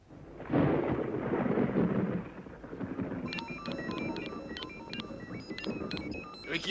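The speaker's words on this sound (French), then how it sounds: "L'orage arrive." Deep thunder from an approaching storm rolls loudly through the first two seconds, then fades under a run of bright electronic beeping tones.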